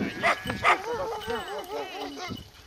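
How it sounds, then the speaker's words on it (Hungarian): A large dog barks and yips repeatedly in Hungary's Réz Mountains, a few sharp barks followed by a run of whining, wavering yelps at moderate distance. "ez egy nagy kutya, basszus"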